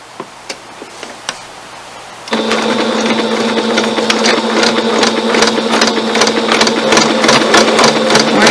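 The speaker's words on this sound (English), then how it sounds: "We're going to stitch the seam" A sewing machine stitches a fabric seam, starting after a few light clicks and then running as a loud, steady, fast mechanical whir with rapid ticking needle strokes.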